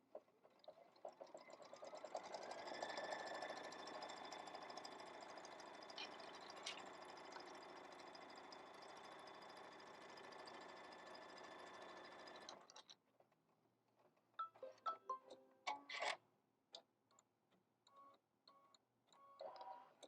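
A Brother Luminaire embroidery machine stitches a tack-down line, a steady close mechanical whir with rapid ticking that runs for about twelve seconds, then stops and leaves scattered quieter clicks and handling noises.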